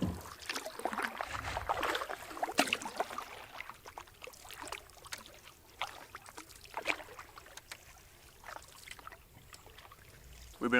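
Canoe paddle strokes dip and splash on calm Sturgeon Lake, a steady rhythm of close water swishes and trickles with small drips between strokes, no talking.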